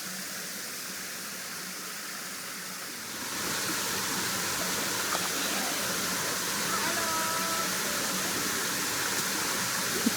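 Ludlowville Falls, a creek waterfall in a nature preserve, roars as a steady broadband rush of water that swells louder after a few seconds and then holds close and constant.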